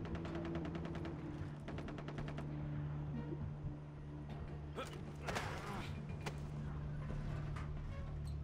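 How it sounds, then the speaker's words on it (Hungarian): Far Cry 3 gunfire rattles in sharp bursts within continuous game sound, with repeated shots around the first few seconds and again near the middle, mid-distance and steady in level. "Valahol megint nagyba lövöldöznek."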